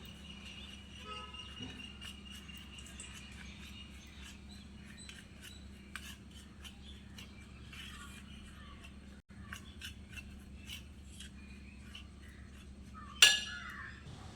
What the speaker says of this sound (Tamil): தேன் சேர்த்து இப்போ நல்லா கலந்துப்போம்